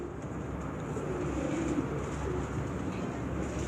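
Pigeons coo softly, the flying birds' parents, at a pigeon-racing event in Gujar Khan, against a steady outdoor hum that runs throughout with no break.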